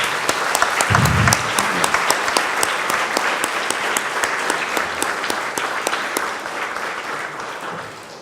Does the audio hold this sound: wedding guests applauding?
yes